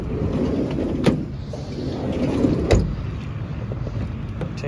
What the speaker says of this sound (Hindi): कारवां प्लस स्मूथ गाड़ी है बेहतरीन गाड़ी है